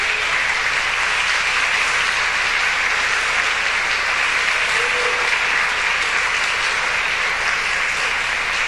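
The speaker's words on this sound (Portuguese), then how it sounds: "dê um aplauso ao Senhor" A church congregation applauds during a sermon, a dense, sustained wash of clapping from many hands, loud and even throughout with no talk over it.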